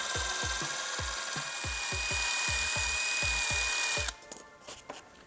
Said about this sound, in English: You just put them in a little drill and you can just trim off any lumps and bumps